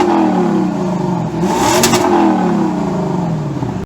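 A Lexus 5-liter V8, the 2UR-GSE, revs hard and loud, its engine note swelling and climbing through a sustained, close-up roar with a brief sharper burst in the middle.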